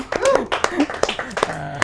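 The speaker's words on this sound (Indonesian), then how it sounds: "tepuk tangan dulu dong teman-teman" An audience claps at a motivational talk by a double diamond manager, sharp hand claps scattered over about two seconds while a voice keeps talking over them.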